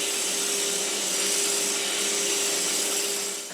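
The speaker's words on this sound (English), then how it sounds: "I sand the ends of these all at the same time with the mandrel" The ends of wooden cross pieces for a replica St Patrick's Cross are sanded together on a spinning mandrel, giving a steady, close, continuous whirring drone with a constant hum and no talking.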